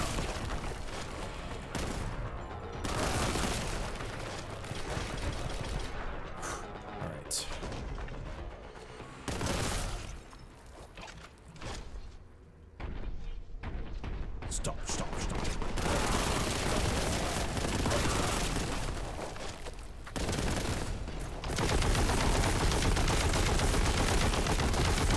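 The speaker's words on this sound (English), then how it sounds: "just the sound of the heavy bolter. It's pretty nice. It's got the chunk I was hoping for" Heavy bolter fire in the video game Warhammer: Boltgun roars in long, dense bursts of rapid chunky shots during a final battle, loud and close, with brief lulls between volleys.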